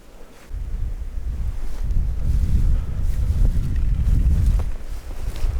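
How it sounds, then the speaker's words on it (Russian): Strong outdoor wind beside a river buffets the microphone in a continuous low rumbling roar that surges and eases, with faint rustling above it and no voices. "Еще мешает ветер слушать."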